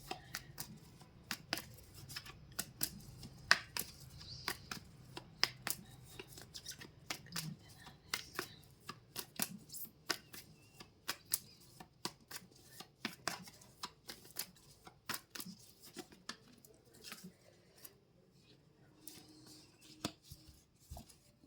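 Tarot cards shuffled and handled during a reading, a run of soft, crisp riffling clicks and rubs at close range with no talking, steady throughout with brief pauses.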